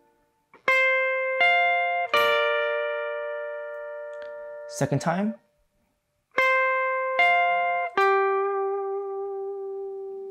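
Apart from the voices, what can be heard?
electric guitar playing a line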